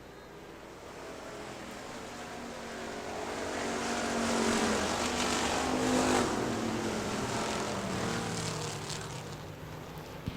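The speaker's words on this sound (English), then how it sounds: "Fred Wood takes the spot over going down the back straightaway" Factory stock cars racing at Hartford Speedway Park, engines droning from a distance and swelling louder as the pack passes, then fading slightly, with no talk over it.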